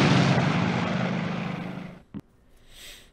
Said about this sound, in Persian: هواپیماشون بلند میشه و از جزیره ساوو فرار میکنه